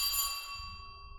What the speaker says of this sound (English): I think it's supposed to be the front doorbell